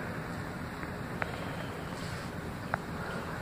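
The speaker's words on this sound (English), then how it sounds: "That's my homemade EDF little jet engine." A small homemade electric ducted fan jet engine runs continuously, giving a steady, rushing roar with a thin high whine on top and a couple of faint ticks.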